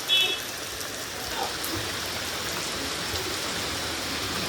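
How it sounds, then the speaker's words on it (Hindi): Heavy rain falls in Vrindavan, a steady dense hiss of downpour on surfaces that continues evenly and unbroken throughout. "बहुत तेजी से वर्षा आई थी"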